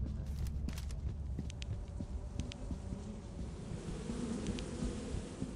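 Bees in Lethal Company give a low, steady buzzing drone under faint clicks and light footstep-like taps, quiet and constant throughout.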